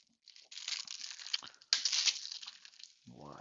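Crinkly plastic wrap crackles and tears as a Blu-ray case is unwrapped, in two close bursts of crumpling, followed by a short low sound at the end.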